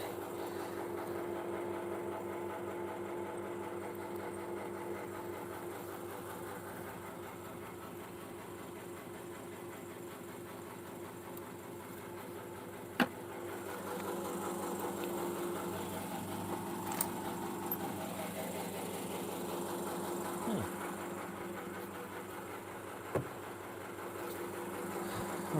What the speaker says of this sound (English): Right, that's the vacuum pump on.